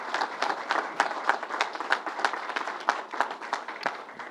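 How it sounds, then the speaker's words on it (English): A small audience at a government briefing at Belmont Racetrack claps in irregular, close, moderately loud bursts of separate hand claps that fade near the end. "Let's give a big round of applause to everyone."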